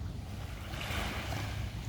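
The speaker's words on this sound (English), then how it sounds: "you would hear the light sounds of the waves here" Light waves on a river in Bensalem, Pennsylvania: a faint, steady wash of lapping water blended with wind rumble, continuous and distant, with no talk.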